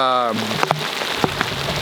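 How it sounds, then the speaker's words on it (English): Rain falls on a vegetable garden of cucumbers in hot weather, a dense steady patter with a few sharper drops, after a brief voice at the start. "it looks like the rain is actually building up a little bit"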